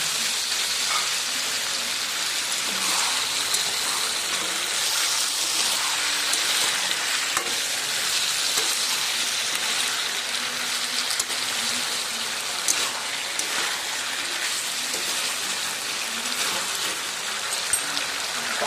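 Masala and vegetables sizzle in a pan, loosened with leftover grinding water for a Bengali katla fish curry, giving a steady, dense crackling hiss that runs unbroken throughout with no talking.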